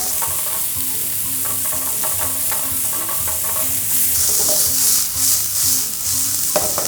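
Ground meat stir-frying in a hot oiled pan, a steady loud sizzle broken by repeated scraping and tossing strokes of a utensil, with no talking.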